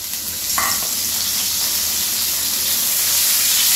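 Potato pieces frying in a pan of hot oil, giving a steady, close sizzle and hiss that swells slightly after a stirring clatter early on, with no talking.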